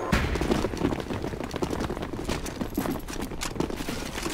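Sustained rapid gunfire rattles continuously as players shoot zombies in CS:GO Zombies on the Biohazard RPD map, a dense clatter of overlapping shots with no pause.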